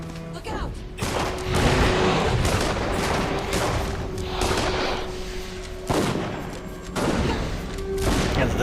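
Pistols fire in the action game Dungeon Siege III, making loud, dense bursts of gunfire close up that come in repeated waves with brief lulls between them, and the shooting continues without a break for several seconds.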